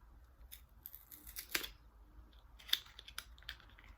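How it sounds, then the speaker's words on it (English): Cosmetics packaging from a Nikkia Joy unboxing is torn open in a few quiet, crisp rips and crinkles, with one sharper tearing burst in the middle. "I think I'm gonna have to rip it."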